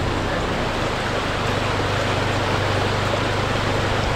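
Motorcycles pushing through deep water on an offroad trip to Cape York, throwing a bow wave that makes a steady, loud rushing wash of water with a low engine drone underneath.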